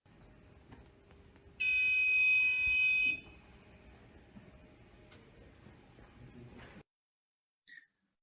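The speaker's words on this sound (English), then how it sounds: "buzzer will beep again because the place is reached defined capacity" A loud, high electronic buzzer sounds once for about a second and a half over a faint background hum, followed later by a brief short beep.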